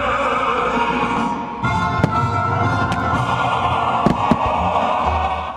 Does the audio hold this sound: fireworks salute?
yes